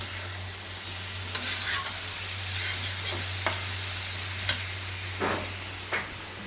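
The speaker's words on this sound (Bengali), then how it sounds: "ভালো করে এখন কষিয়ে নিব" Mango curry being sautéed and stirred in a pan, with soft intermittent scraping strokes and light sizzling over a steady low hum, fairly quiet and close.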